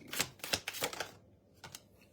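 Tarot cards are side-shuffled by hand in a series of quick crisp riffles, about five sharp bursts, then a pause and two more, close and fairly quiet with no speech.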